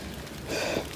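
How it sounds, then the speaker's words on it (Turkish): Rain falling through a wet morning, a soft continuous hiss and patter that thickens slightly in the second half, steady and fairly close with no voices. "Güneşimiz de arada böyle çıkıyor ama yağmur da yağıyor."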